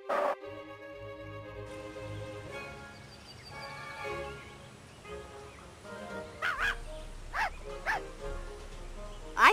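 Cartoon puppy in the computer game Putt-Putt Pep's Birthday Surprise, a series of short, bright yips and barks near the end, following a stretch of soft music and a voice.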